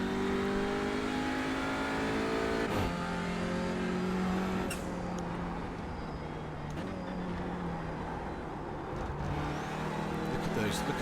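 TCR touring race car in iRacing at Charlotte, engine droning and shifting with rising and falling harmonic pitch, loud and continuous, with someone talking over it.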